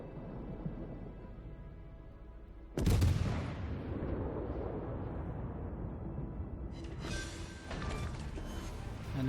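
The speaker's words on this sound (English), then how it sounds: "Enemy cruiser destroyed." An enemy cruiser is destroyed by gunfire in a naval battle game: a sudden heavy blast bursts in partway through, rolls into a long rumbling decay, then a second sharp crackling burst follows, all fairly quiet and without talk.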